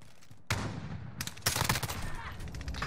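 Gunfire in a Search and Destroy match in a video game, with a PP19 Bizon in play: rapid automatic bursts starting suddenly and returning in a second louder volley, fairly close, with faint voices underneath.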